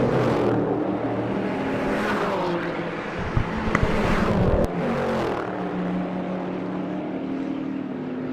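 Race cars roar past at the Potters Pass section of a South African Endurance Series circuit, engines droning loud and close with rising and falling pitch as they pass, plus a brief burst of rattling around the middle.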